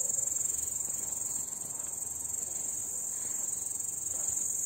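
Dense chorus of grasshoppers stridulating outdoors in summer, a continuous high shrill chirring that stays steady and prominent throughout, with faint low background ambience and no talk.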